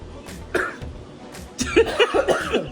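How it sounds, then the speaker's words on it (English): Several coughs in quick succession, close and fairly loud, followed by a burst of throat-clearing coughs. "Why do you have to cough before you answer?"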